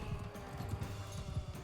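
Horses in a battle in the video game Mount and Blade: Bannerlord 2, with steady hoofbeat clip-clop and a possible faint whinny under a dense, busy mix of low game noise.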